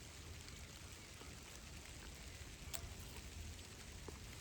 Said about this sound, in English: hopefully this rain won't last too long